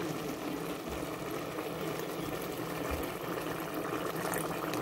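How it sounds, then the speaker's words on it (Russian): Boiling water poured into a multicooker holding pilaf: a steady, soft rushing trickle that runs continuously at low volume, with no talking. "Наливаем воды. Кипяток."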